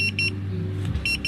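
A kitchen timer or alarm repeats short bright electronic beeps in quick pairs, faint and close, over a low steady hum.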